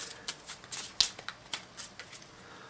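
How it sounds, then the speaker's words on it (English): A deck of cards being shuffled, a quick series of soft riffling flicks and snaps, close up and fairly quiet, with no talking. "I shuffle the monster deck."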